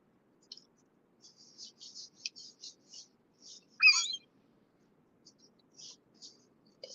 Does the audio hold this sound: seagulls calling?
yes